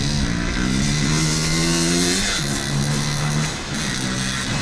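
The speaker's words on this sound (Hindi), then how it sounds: "बाइक की आवाज" A motorcycle engine runs steadily nearby, a loud sustained drone whose pitch rises and falls slightly over a few seconds under a noisy background.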